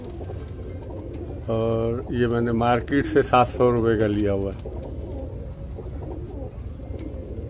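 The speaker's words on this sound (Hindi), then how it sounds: "ये मेरा मेन कबूतर है।" A pigeon coos in a few rolling, throaty bursts, close by, while someone talks over it.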